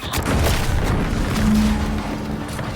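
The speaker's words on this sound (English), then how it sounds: "What's that? An explosion?" A low, rumbling explosion booms in the sci-fi video game The Outer Worlds 2, a sustained heavy roar that swells and lingers for a few seconds with a faint tonal hum underneath.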